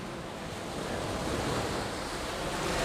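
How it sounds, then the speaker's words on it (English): Rough, high ocean water breaks on the shore in the Mariana Islands, a dense continuous roar of surf mixed with wind buffeting the microphone, loud and steady with no pauses. "Yes, the water's pretty high and kind of rough."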